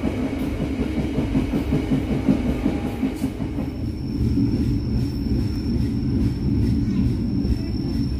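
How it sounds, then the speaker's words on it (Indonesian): Passenger train rolling on rails into Cilegon station in Indonesia, a steady loud rumble with rhythmic clickety-clack heard from on board, a faint high tone appearing midway. "Kereta api yang saya naiki masuk stasiun Cilegon."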